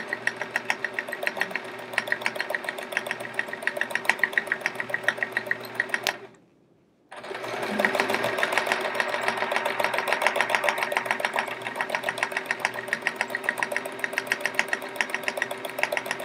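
A sewing machine runs steadily for free-motion quilting of swirls on a chevron quilt, a loud, fast, even mechanical chatter that cuts out for about a second and then resumes at the same pace.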